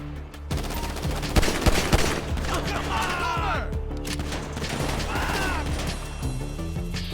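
Rapid bursts of gunfire from a GTA V shootout crackle loudly and continuously, with clustered shots, impacts and game music underneath, and no speech over it.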